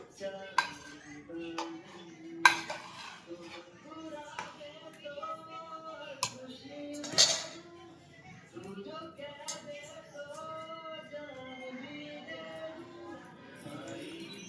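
Chicken is stirred in a pan on a gas stove with scattered metallic clanks and scrapes of a utensil against the pan, a few sharper knocks standing out while a voice talks over it.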